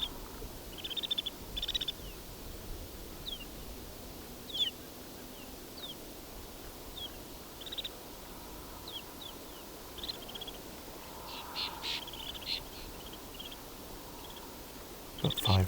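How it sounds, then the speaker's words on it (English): A flock of snow buntings gives scattered thin, high calls, faint and spread out over a quiet background, with someone speaking quietly at times. "But I doubt you would think this is 43 birds if you're listening to this."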